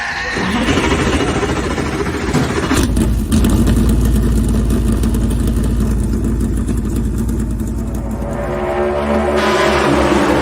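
Race car engines start up and run at an oval track event at Richmond, a loud, dense engine roar that holds steady and rumbles at close range.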